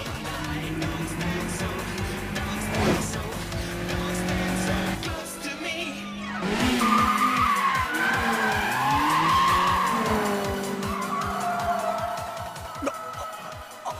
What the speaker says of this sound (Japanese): 半分の車線だけでセンターラインをはみ出さない四輪ドリフト、すげえハイテクニックだ。